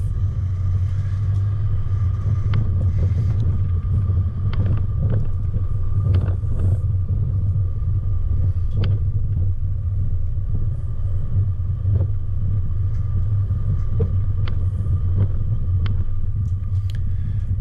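A car rolls along a flat dirt track toward Craig's Hut, its steady low rumble and road noise constant throughout, with occasional small knocks and rattles from the cabin.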